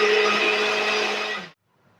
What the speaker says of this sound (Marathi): आता आपण मिक्सरला फिरवून घेत आहोत